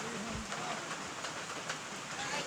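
Steady rain falls in a video game, an even wash of patter with no pauses throughout.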